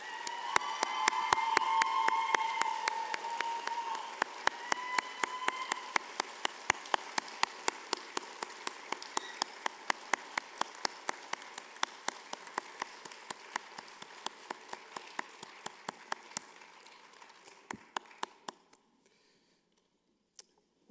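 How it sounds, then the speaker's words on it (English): At a fall graduation convocation, the audience applauds the faculty with dense clapping that gradually thins out into scattered individual claps before stopping. A few voices are faintly audible near the start. "Graduates, a round of applause for your faculty members."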